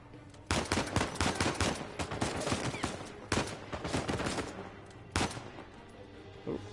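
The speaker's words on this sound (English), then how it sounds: "instead of rolling into gunfire" Rapid bursts of gunfire in a video game, several dense volleys of shots with short gaps between them, loud and close with no talking.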